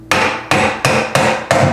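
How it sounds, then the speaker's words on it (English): A hammer strikes a coconut shell five times in steady succession, splitting it along a line around the nut; each hit is a sharp, close, loud crack with a short ringing tail. "you're gonna take your hammer and you're gonna hit it along the line all the way around"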